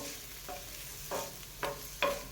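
Chopped onions sizzle on a hot cast iron pan with a soft, steady frying hiss, punctuated by a few scraping stirs of a spoon.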